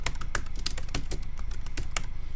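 Computer keyboard typing, a quick steady run of close, crisp key clicks with no pauses.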